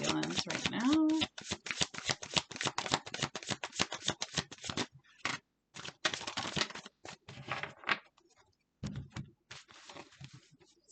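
Tarot cards are shuffled close up in rapid, fluttery riffles and taps that come in bursts with short gaps, while a voice can be heard briefly at the start.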